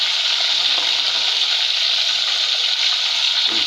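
Yellowfin fish sizzles steadily in hot oil, a dense, continuous frying hiss that stays loud and even throughout with a faint low hum beneath and no voices.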